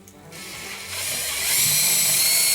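A power drill driving long 125 mm bugle screws into the sides of timber ceiling joists, the motor starting after a short quiet pause and ramping up to a loud, high, steady whir.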